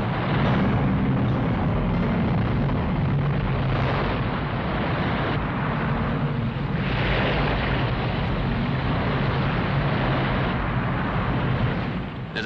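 Six-cylinder petrol engine of a 1962 DUKW military amphibious vehicle, a loud, continuous low rumble and roar that stays steady for the whole stretch with no speech over it.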